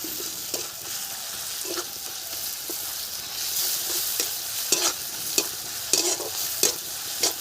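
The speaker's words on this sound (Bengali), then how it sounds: "পেঁয়াজ ভাজা হয়ে গেছে, এখন দিয়ে দিচ্ছি রসুন বাটা।" Garlic paste added to fried onions in a pan for a village-style bottle gourd and prawn curry sizzles under a steady frying hiss, with repeated scraping clinks of a spoon stirring at an irregular rhythm.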